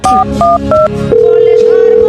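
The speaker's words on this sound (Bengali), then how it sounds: "আজকে বসে তারা পুলিশে ফোন দিতেছি" A telephone dials a call to the police: four quick, loud keypad tones in succession, then a steady tone that holds for about a second.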